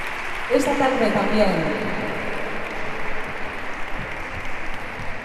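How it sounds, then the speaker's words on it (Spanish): An audience applauds at an end-of-year dance school showcase, a steady wash of clapping heard alongside a voice and background murmur. "un fuerte aplauso para todas ellas, porque se lo merecen"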